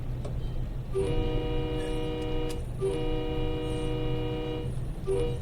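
MBTA commuter train horn sounding for a crossing in a train simulator game, three long chord blasts in a long-short-long-style pattern, loud and close over a low rumbling engine drone.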